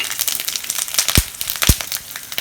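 Mustard seeds and dried red chillies hitting hot oil for a bitter gourd poriyal, crackling and spitting close up with a few sharper pops amid continuous sizzle.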